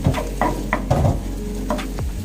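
Glutinous rice dough being stirred in a basin off the stove, giving close, sticky scraping and squelching strokes in irregular bursts with soft clinks, no voices.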